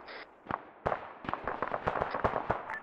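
Explosive blasts and crackling pops as a BTR armored vehicle is destroyed in the military game ArmA 3, a dense run of sharp bursts over about three seconds with no voices.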